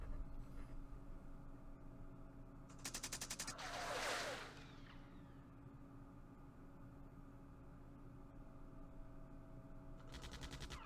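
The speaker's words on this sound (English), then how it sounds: "It's machine gun support, but that's firing at bunkers and trenches" Machine gun support fire in the Campaign Series Vietnam war game, set at the 1968 Battle of Khe Sanh Village, heard as short rattling bursts around a whooshing swell, faint under a steady background hum.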